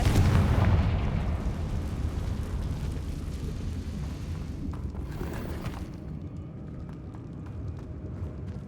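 Confringo, an explosive spell cast in the Hogwarts Legacy video game, sets off a loud booming blast at the start and then a long rumbling, crackling roar that slowly fades, with no talking.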